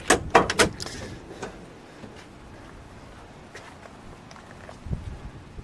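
Door of a 1965 Chevrolet Biscayne being opened: a cluster of sharp metallic latch clicks and clunks up close, then quiet with a few faint knocks and a final thud.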